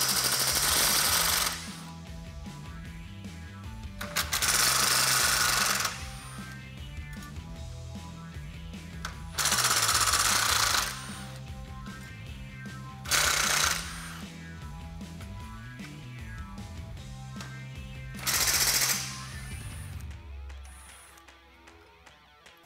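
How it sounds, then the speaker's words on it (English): A power driver spins out T25 Torx screws from the lower grille skeleton of a 2009-2014 Ford F-150, giving several separate loud whirring bursts with quiet pauses between them. "We want to transfer over the lower portion of the grill skeleton here using the 5-6 T25 Torx screws, which we will remove right now."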